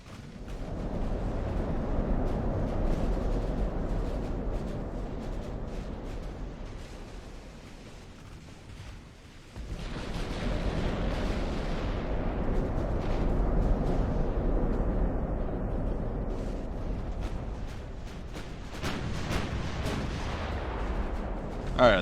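Heavy cruiser naval guns boom across a fleet battle in Ultimate Admiral: Dreadnoughts, with dense rolling salvos and rumbling blasts that continue steadily, dip briefly, then surge again with sharp cracks near the end.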